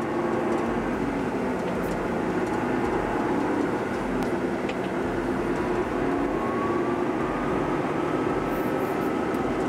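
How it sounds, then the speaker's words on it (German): A Case IH Quadtrac 715 tracked tractor turning automatically in a field gives a steady, loud, even engine drone from the cab with no breaks. "So, jetzt dreht der Quadrac wieder automatisch in der Spur."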